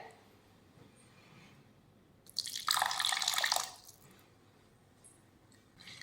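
A brief splash of two or three spoonfuls of water added in close by, lasting about a second, with quiet background hiss before and after.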